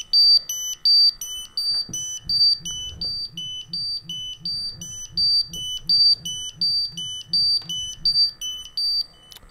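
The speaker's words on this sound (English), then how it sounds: "will silence my alarm by placing my thumb over the alarm opening" A gas detector's shrill electronic alarm beeps rapidly in a steady repeating pattern, loud and close, with a low pulsing pump-like hum underneath.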